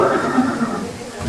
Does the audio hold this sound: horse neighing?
yes